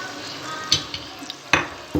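Ground chicken and onion frying in a pot for chicken haleem give a low, even sizzle, with a few crisp spoon knocks and stirring clatters rising above it.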